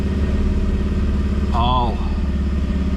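A Toyota Land Cruiser 80 Series truck, freshly built, runs steadily while put into drive and starts to move, its engine a continuous mid-pitched drone throughout, with a brief exclamation from a person partway through.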